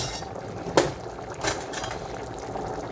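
Shrimp cook in a pan, a bubbling, liquid simmer with a couple of sharp clinks from utensils against the pan, close and moderately loud.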